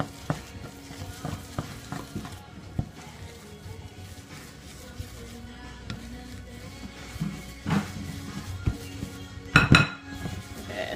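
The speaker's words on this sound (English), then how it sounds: "I'm just mixing it and it's turning into kind of like a paste." A utensil mixes low carb vegan keto bagel dough in a bowl, making scraping, clinking stirs with irregular knocks against the bowl and a louder clatter near the end.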